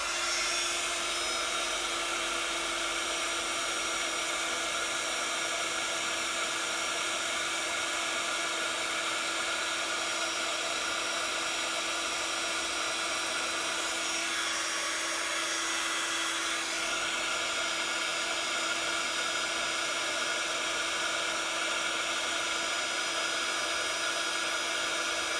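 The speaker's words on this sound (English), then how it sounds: "And then you're just going to heat set that with your heat tool." A heat tool blows steadily while setting white embossing powder on a stamped tag, a loud, even hot-air roar with a high whine that holds for the whole stretch and dips briefly midway.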